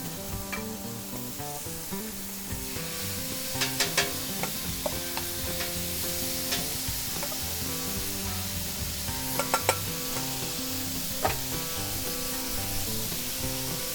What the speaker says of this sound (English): we'll go ahead and drop our peppers and onions in there